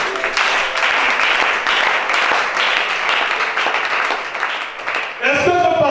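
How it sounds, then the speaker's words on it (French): A church congregation applauding, dense sustained clapping with cheering voices mixed in, loud throughout before a voice breaks in near the end. "Acclame ça."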